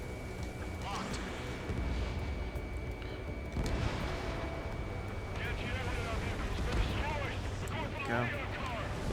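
Anti-aircraft gunfire and explosions from a combat flight video game, a dense, continuous rumble of booms and bursts with crackling shots throughout, under steady wind-like noise.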